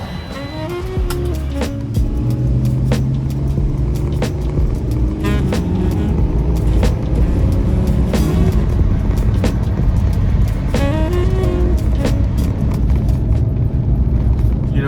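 A Winnebago Travato 59G camper van drives along a forest road, its engine and tyre rumble steady and close for the whole stretch, with occasional knocks and rattles from the cabin and no talking.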